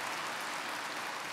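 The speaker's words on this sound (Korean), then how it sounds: "정말 박수 한번 쳐봅시다" Dense, faint applause from an audience at a Seoul Bible seminar, likely a church congregation clapping after a choir performance, as a steady wash of hand claps with no voices.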